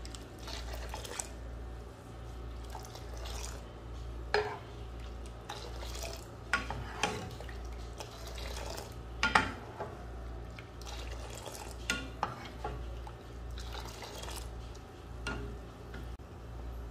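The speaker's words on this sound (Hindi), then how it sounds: "ये देखिए इसमें बॉयल्स आना शुरू हो गए हैं, ये उबल गई है अच्छी तरीके से" Jaggery tea with milk boiling in a pot, a steady low bubbling rumble with intermittent clinks and stirring scrapes of utensils against the vessel, close and fairly loud, with no talking.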